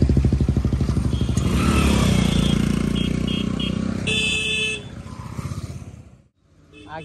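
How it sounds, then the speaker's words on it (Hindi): A motor vehicle, tagged as a motorcycle, runs on the road close behind, with a steady loud engine rumble, a short high honk partway through and a dip near the end. Talk is mixed in. "इधर पीछे में गाड़ी है"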